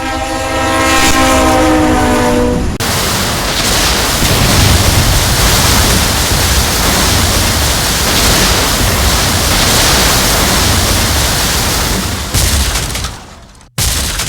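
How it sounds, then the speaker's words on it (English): A train blasts its horn in a loud harmonic chord, then a roaring crash and grinding as it strikes a dump truck at a crossing, the rumble carrying on before dropping off sharply near the end. "The train strikes the dump truck, and the locomotives are knocked out of balance by the force"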